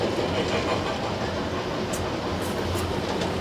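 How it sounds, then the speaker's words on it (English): A model train runs around a holiday display with gingerbread houses, giving a steady, close rumble with rhythmic clickety-clack from the wheels and track throughout. "the train goes around a display that we have"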